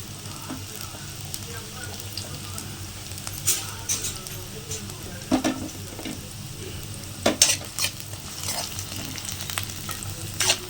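Onions and green chillies frying in a pan for goat brain podimas, a steady close sizzle with a few louder scraping stirs and clinks of a utensil against the pan.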